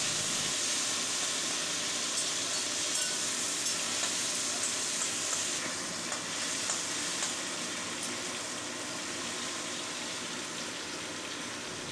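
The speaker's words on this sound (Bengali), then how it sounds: "তেলটা ভালো মতো গরম হয়ে গেলে চিংড়ি মাছগুলো গরম তেলে ছেড়ে ভালো" Prawns frying in hot oil for a pointed gourd and prawn curry, a steady bright sizzle and hiss throughout with small crackles and a bit of stirring, no talk.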